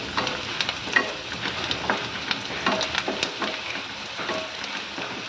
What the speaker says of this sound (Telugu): ఈ ఉల్లిపాయ ముక్కలన్నింటినీ మనం ఆయిల్లోకి యాడ్ చేసుకోవాలి ఉల్లిపాయల్ని మనం చక్కగా కాస్త బాగా వేయించుకోవాలి